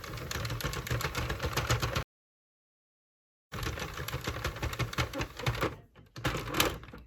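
A hand-cranked knitting machine carriage sweeps back and forth across rows of yarn with a busy, rhythmic mechanical clatter. It runs for two seconds, stops briefly in silence, then resumes in bursts, close and fairly loud.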